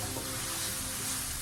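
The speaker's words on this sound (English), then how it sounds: "Then give it a stir and stir it up nicely." Jamaican vegetable stew being stirred in a pot, a brief continuous bubbling sizzle with soft stirring movement, close and steady, with no voices.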